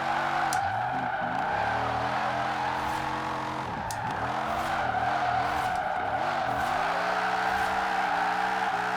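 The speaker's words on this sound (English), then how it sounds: "Okay, so I can keep this going sideways quite well, quite easily." A Camaro IROC-Z drifting sideways in Forza Horizon 4, its engine droning steadily with rev changes beneath continuous tire squeal and skidding, loud and close throughout with no talking.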